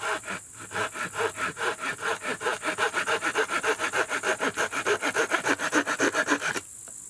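A Japanese pull saw cuts wood in fast, even back-and-forth strokes, a raspy rhythmic scraping close by that stops abruptly near the end.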